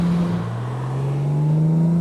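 A Jaguar E-Type Speedster with a fully rebuilt engine running three carburetors on new headers, a steady loud engine drone that slowly rises in pitch as it accelerates, heard alone with no talk.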